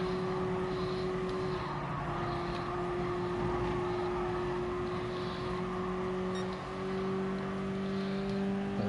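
A road car's engine lapping a small oval in Gran Turismo Sport on PS4, rated at about 230 brake horsepower, holding a steady, thin droning hum at an even pitch with little revving, clear and alone.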